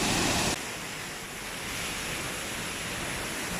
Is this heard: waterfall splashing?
yes